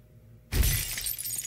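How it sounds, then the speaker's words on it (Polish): A mirror smashed in the Cyberpunk 2077 video game: a sudden loud shatter of breaking glass after a quiet moment, followed by a bright tinkling spray of shards that lingers. "Rozbij lustro? Chcemy rozbić lustro?"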